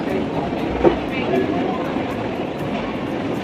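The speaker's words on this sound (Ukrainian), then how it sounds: "Ось такий він вокзал терміні." Trains at Rome Termini railway station produce a rolling rumble and a clanking jolt, blended with the murmuring hubbub of a busy concourse in a continuous, echoing station ambience.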